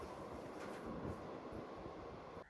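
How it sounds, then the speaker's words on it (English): Steady rumbling and rattling of a local train crossing the 1919 White Bridge in northern Thailand, a continuous broadband roar with faint clanks, no voices. "the train crosses the White Bridge, built in 1919"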